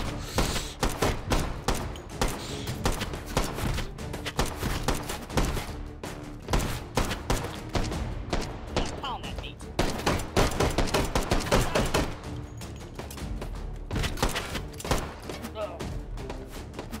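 Dense, sustained gunfire in a Hot Dogs, Horseshoes & Hand Grenades VR shooter, Northest Dakota map, rapid overlapping shots and bursts rattling continuously for the whole stretch, loud and close.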